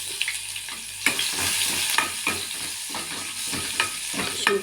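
Cumin, mustard seeds, curry leaves and crushed ginger frying in hot oil, a steady close sizzle and crackle with light stirring scrapes and a few sharper pops throughout.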